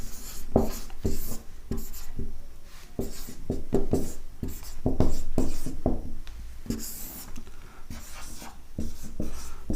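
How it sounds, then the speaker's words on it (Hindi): Chalk or marker writing on a classroom board during an English grammar lesson, a steady run of short scratchy strokes and taps with brief pauses between them, close and clear with no talk over it. "आइए, मैं डेफिनेशन लिखता हूं मैं आपके लिए।"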